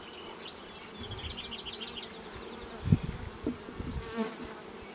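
Honeybees buzz around a hive in a close, continuous drone, with a few soft knocks and bumps rising over the hum.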